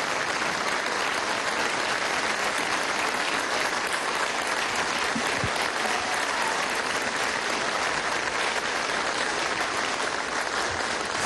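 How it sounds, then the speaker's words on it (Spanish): Sustained standing ovation in the Venezuelan National Assembly during a solemn bicentennial session, honouring a historian as orator: thick, steady, loud applause from a large chamber crowd, unbroken throughout. "pido un aplauso de pie para nuestro orador de orden"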